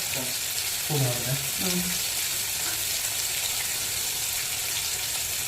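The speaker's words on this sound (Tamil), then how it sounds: "எல்லா மீனையுமே ஒரே ரவுண்டில் போட்டு வறுக்கலாம்" Fish frying together in one batch in a pan, a loud continuous sizzle and hiss, with a brief voice at the start.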